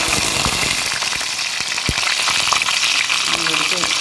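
Fenugreek seeds frying in hot oil in a pan as the base for a fish curry, a steady close sizzle with faint crackles and a few stirring clinks.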